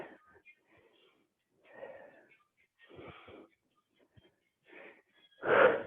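A person breathes hard during a fat-burning workout, with a series of loud wheezing exhales and gasps in uneven bursts separated by short silences, ending on a heavy puff close to the listener.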